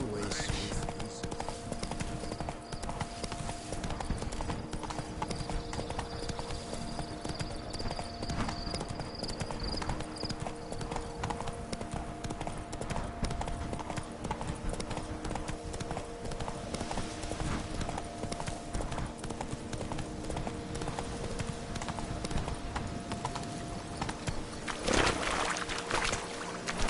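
Roach the horse gallops in The Witcher 3 video game, with fast, continuous clip-clop hoofbeats running the whole time over a busy background of ambient game sound.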